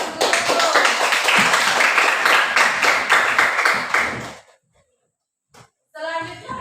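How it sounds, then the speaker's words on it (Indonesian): Classroom audience applauding a student group, dense hand clapping sustained for about four seconds before stopping abruptly, followed by silence and then a brief voice. "Diberi tepuk tangan dulu."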